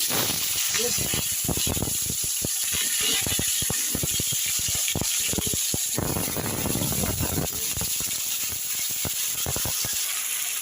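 Potatoes, eggplant and flat beans sizzle and hiss in hot oil, a steady crackling broken by frequent scraping and clatter of stirring close by.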